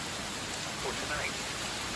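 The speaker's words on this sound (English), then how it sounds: "This is some really heavy rain." Heavy rain pours down steadily during a storm with gusty wind in western Massachusetts, a dense, even hiss of falling water that continues without a break.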